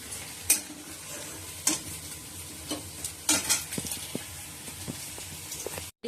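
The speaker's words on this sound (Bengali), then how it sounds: "মশলা কষানো হয়ে গেছে" Spices with cumin powder, coriander powder, ginger paste, Kashmiri chilli powder, sugar and salt being sautéed and stirred in a pan: continuous close sizzle with several sharp scrapes of the spatula spaced a second or so apart.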